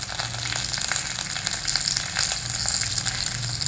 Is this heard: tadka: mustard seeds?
yes